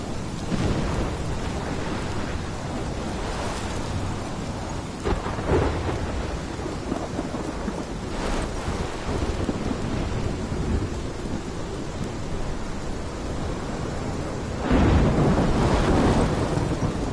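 A heavy thunderstorm with steady, loud rain roars throughout. Several deep rumbles of thunder rise out of it, and the downpour surges louder near the end, with occasional wind buffeting.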